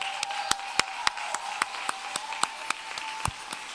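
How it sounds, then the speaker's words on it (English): Scattered, uneven hand claps from a modest audience at a nursing school pinning ceremony, sharp individual claps repeating irregularly over a steady room hum with no voices. "give them a big thank you and a big applause as well."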